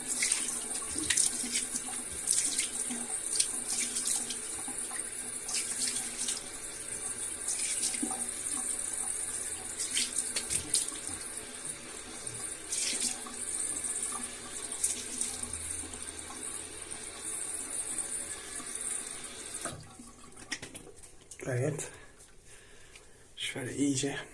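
Water runs steadily from a bathroom tap into a sink during face washing at a traditional shave, a constant hiss with splashing touches, and a voice speaks over it before the flow thins near the end.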